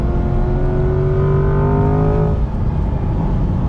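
A 2020 Chevrolet Camaro ZL1 1LE drives hard through a left-hand bend, its engine note loud and close inside the cabin, pitch climbing then dropping sharply as the driver lifts off.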